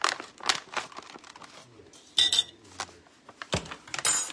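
A spoon stirs Swerve zero-carb brown sugar sweetener in a bowl, with scattered light clinks and gritty scrapes coming in short irregular bursts, fairly close and quiet.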